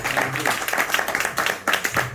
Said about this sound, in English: let's all give Mr. Lee Marvin Adams another round of applause